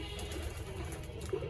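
Pigeons coo softly in a loft, low and faint, a brief murmur of calls over quiet background noise.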